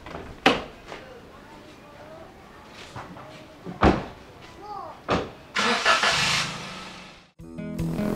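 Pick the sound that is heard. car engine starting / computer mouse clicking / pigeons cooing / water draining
car engine starting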